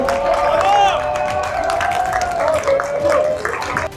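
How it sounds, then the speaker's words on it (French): An audience at a poker tournament breaks into steady applause for the newly determined qualifiers, with a voice carrying over the clapping crowd throughout. "On les applaudit."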